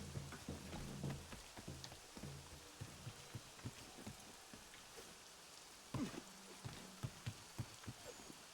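Rain in the game Assassin's Creed III, set in Boston, a faint steady patter of drops with soft irregular taps and dull thumps scattered through it.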